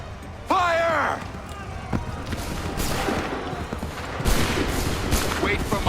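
Musket volley fire in the video game Assassin's Creed 3: a shouted command comes first, then a loud ragged fusillade of overlapping shots and crackling bursts spreads across the rest, with voices mixed in.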